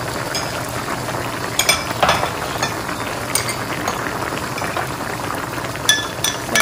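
A spoon scrapes and clinks in a bowl while almond flour is stirred into cold water, soft wet stirring broken by a few sharp light taps against the bowl, close and alone.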